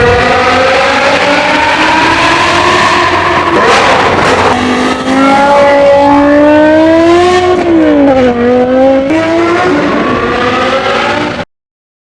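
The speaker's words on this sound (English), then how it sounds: "the world's first, loudest, and most exotic sounding exhaust of all time" Modified V10 BMW M5 E60 with a manual gearbox and a loud F1-style exhaust, screaming close and very loud as revs rise, dip and climb again in a high-pitched wail before cutting off abruptly.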